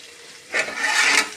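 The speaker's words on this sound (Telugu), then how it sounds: "ఇప్పుడు హాఫ్ గ్లాస్ వాటర్ యాడ్ చేసుకోండి." Half a glass of water poured into a pan of tomato and egg curry, a brief rushing splash that swells suddenly and runs steadily for under a second, fairly close and alone.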